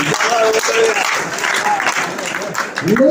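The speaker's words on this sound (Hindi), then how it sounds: "मेरा एक बार जोरदार ताली बजाए माताओं के लिए।" Loud, dense applause from an audience at a Hindi kavi sammelan poetry recital in Ujjain, steady throughout with a voice speaking over the clapping near the end.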